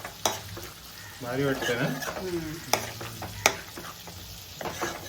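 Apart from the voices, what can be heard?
catfish eggs being stirred and fried in masala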